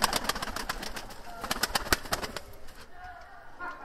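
Mardin tumbler pigeons coo and rustle close by in a loft, with soft repeated coos amid sharp clicks and wing flutters that grow quieter toward the end.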